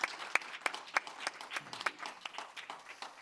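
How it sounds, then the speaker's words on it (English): A conference audience at a European security event gives a short, quiet round of applause, a scattered patter of individual claps without voices. "So I really want to ask you to give them a round of applause."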